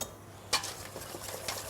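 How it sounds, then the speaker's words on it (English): A whisk stirs egg yolks and caster sugar in a bowl, producing a few faint, close clinks and light scrapes against a quiet background. "I'm just going to mix this then."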